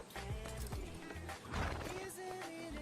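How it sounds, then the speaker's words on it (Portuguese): A horse in the Western video game Red Dead Redemption 2 snorts and shifts, hooves clopping in a few quick steps, under steady in-game ambience with no talk. "Calma aí, cavalo."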